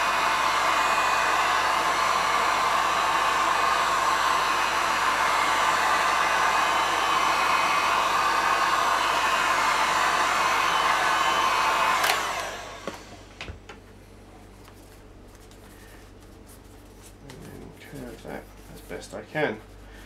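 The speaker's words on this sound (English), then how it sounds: "Take the heat gun and heat the back of the foam." A heat gun blows steadily and loudly while warming the back of a foam piece for a batsuit cowl, then cuts off abruptly, leaving quiet handling noises and faint rustles.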